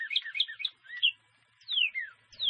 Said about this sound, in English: Have you heard chirping of birds early in the morning?